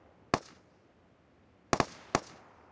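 Bots fire guns in a PUBG Mobile match, heard as one sharp crack followed a moment later by a quick double shot and another single shot, distant-sounding with short echoing tails and no talking.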